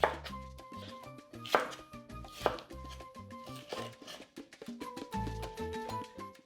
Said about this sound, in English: cut them into the roughly thick strips